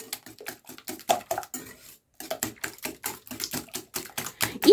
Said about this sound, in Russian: Без миксера, просто венчиком. Так вот перемешиваем.